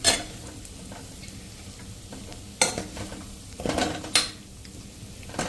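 Spices being stirred into a dry vegetable dish (sukhi bhaji) in a pan, with a faint sizzle underneath and a few sharp scrapes and clinks of the spoon against the metal pan, clear and close with no talking.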